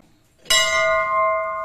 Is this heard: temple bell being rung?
yes